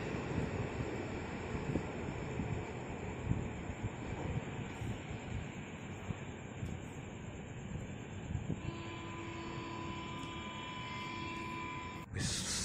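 A KRL commuter electric train, Tokyo Metro 6119 set of ten cars near Depok, speeding along at night with a steady rushing roar and hum, a whining tone rising near the end, no talk.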